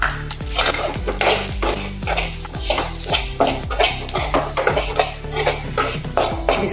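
White sesame seeds and grated coconut roasting in a pan, with a rapid run of clinking metal scrapes and taps from stirring that repeat in an even rhythm, close and fairly loud with no voices.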